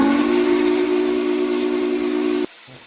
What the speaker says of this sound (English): let's be prepared to hear this whistle in 3, 2, 1